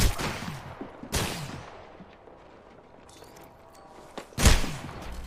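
Gunfire in the battle-royale game Apex Legends: three loud, close bursts of rapid shots, with quieter crackling in the gaps between them.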